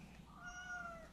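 A cat meows during a subcutaneous fluid injection, one drawn-out close cry that rises and falls over about a second against a quiet room.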